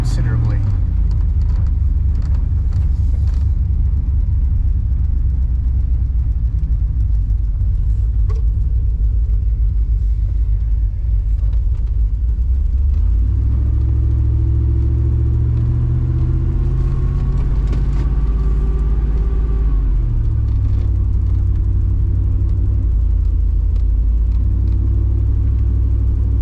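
An LS engine fitted in an OBS truck idles with a deep, loud rumble during carburetor tuning, with a couple of brief throttle blips raising the pitch midway, and a voice talks over it.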